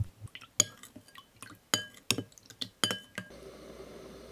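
Water, soy sauce and syrup being poured and stirred in a bowl for a braising sauce, with a series of close glassy clinks and taps, liquid splashes, and a soft steady pour at the end.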